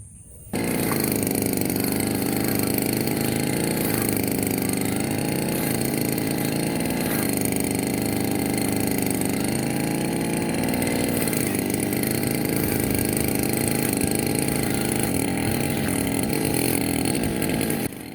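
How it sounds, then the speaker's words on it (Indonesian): A petrol grass trimmer cuts tall backyard grass about 30 to 40 cm high, its engine droning loud and close for around seventeen seconds, rising and falling slightly as it works. "Kita akan babat pakai mesin rumput."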